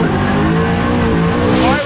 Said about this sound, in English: Look at that thing, that Mustang RTR spin.